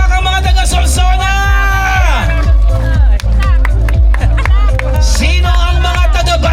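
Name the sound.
audience clapping and cheering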